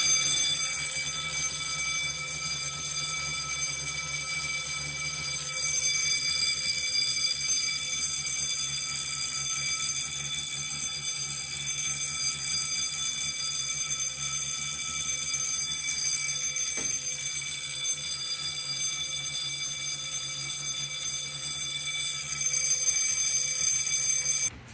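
Fire-Lite MS-9600UDLS addressable fire alarm system in test, a loud, continuous high-pitched electronic alarm tone sounding without a break for the whole stretch, with no voices.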